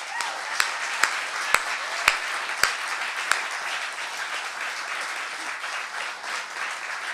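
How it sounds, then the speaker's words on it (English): An audience applauds at a poetry reading event: sustained dense clapping from a crowd, with a few sharper nearby claps standing out early before it settles into an even roar. "they deserve an incredible round of applause and thanks"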